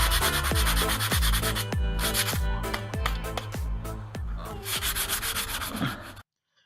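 Rapid rhythmic rasping of sandpaper scrubbing body filler on a car, strokes going back and forth steadily and close up, ending abruptly.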